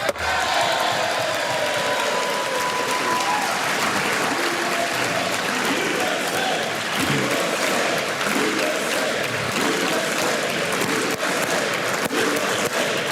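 A crowd in the House chamber cheers and applauds after a vote passes 218 to 214. The sound is loud and sustained, with chanted voices rising and falling through the roar.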